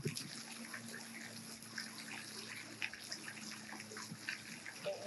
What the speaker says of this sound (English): the breeze on your skin, the sound of the water